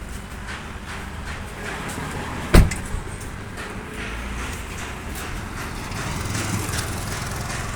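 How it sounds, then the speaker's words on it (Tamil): A BMW X7, parked and just switched off, gives a single sharp clunk of its doors locking over a quiet, steady background hum. "பார்க்கிங்கில் போட்டு தான் நம்ம ஆஃப் பண்ணோம் அப்போ தான் டோர்லாம் லாக் ஆகும்"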